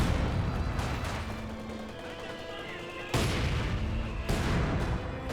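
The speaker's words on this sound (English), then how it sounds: "Here's some mortar shots there." Mortar shots in Company of Heroes 2 land as two heavy booms over a dense battlefield din, with background gunfire and rumble between them.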